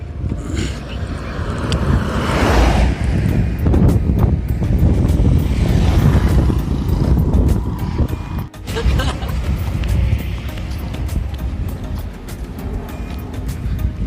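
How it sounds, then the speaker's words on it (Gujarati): An airplane passes overhead on the walking route to Chotila, a loud broad engine roar that swells and fades over several seconds, heard outdoors with people talking nearby. "વિમાન જાય છે ચોટીલા."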